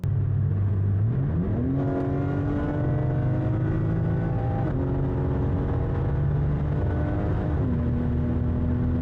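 A tuned BMW X3M making over 750 wheel horsepower revs hard, its engine note climbing in pitch in stepped surges and holding high, loud and close with a sustained whine.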